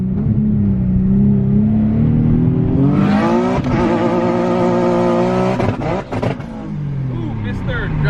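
A turbocharged car revs hard through the gears with rising engine notes, and the driver briefly lifts off the throttle partway through before it pulls again, loud and close from inside the car.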